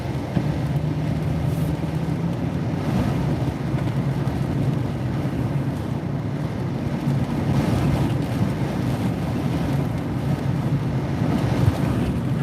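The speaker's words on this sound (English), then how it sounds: "All right, huge wind gust just now. Big wind. The wind has not died down." Strong wind gusts roar during a windstorm along Highway 101 in Rockaway, Oregon, a steady loud broadband rush buffeting the microphone for the whole stretch with no talk.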